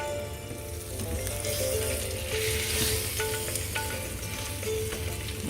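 Osso bucco meat browning in a frying pan, a continuous, close, fairly loud sizzle with faint spatters and no speech.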